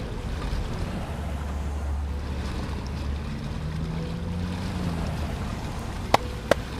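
An amphibious car floating on water like a boat makes a continuous low wash of water and wind. Two sharp clicks come at the end, and no one speaks.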